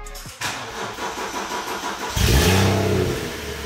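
A vehicle engine cranks with a steady rhythmic chug while a MicroStart XP20 portable jump starter is connected, then catches and roars into a louder idle.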